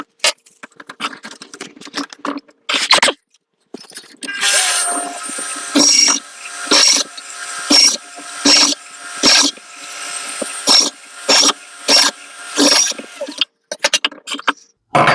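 Hand drill enlarging a hole by half a millimetre in a panel under the bonnet of a Mk1 Ford Escort, in repeated short bursts of close whirring with pauses between, preceded by a few clicks and handling noises.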